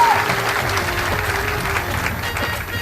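A church congregation claps loudly and continuously for several seconds as one dense wave of applause.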